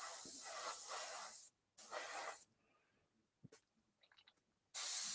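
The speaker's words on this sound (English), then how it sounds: "this is the Fender FE 183K airbrush here" A Fender FE 183K airbrush sprays in steady hissing bursts, two long ones, then short faint puffs and a final loud burst, close and alone during model painting.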